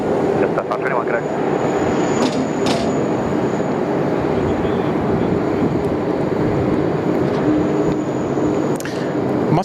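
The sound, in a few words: Sri Lankan Airlines Airbus A330-300 jet aircraft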